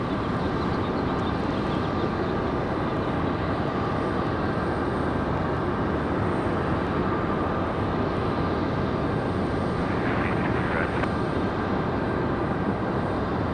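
Steady, far-off rumble of an airliner landing on runway 23 right at Raleigh-Durham International Airport at night. Broadband jet roar holds evenly throughout with a faint higher whine near the end.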